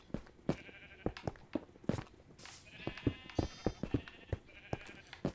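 Sheep in the Minecraft video game bleat again and again, loud repeated calls over a steady run of clicks and game effects.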